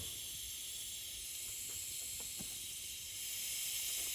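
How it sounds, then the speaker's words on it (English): Compressed air hisses steadily as it blows a direct-injected engine's intake valve dry, a continuous broadband rush lasting throughout with a few faint clicks underneath. "keep the towel handy over here and get my compressed air. So I blew it dry better."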